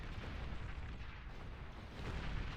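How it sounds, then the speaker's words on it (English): Gunfire from snipers in a team video game match, heard as a dense, continuous rumble of distant shots and booms with no clearly separated cracks, steady throughout. "Sounds like we have a few snipers in play."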